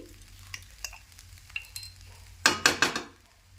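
A little vinegar goes into a hot pan, then a spoon stirs it. A faint sizzle and light scrapes come first, then a burst of loud sizzling and clattering stirs near the end.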